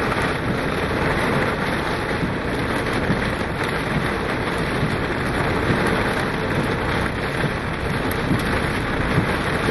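Hail pelting down during a storm over a field, a dense, loud, continuous clatter and hiss of falling ice and rain that stays steady throughout, with no voices.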